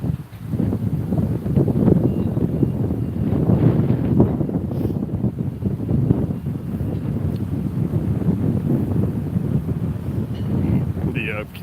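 Steady wind buffets the microphone throughout, a constant low roaring rumble with no breaks.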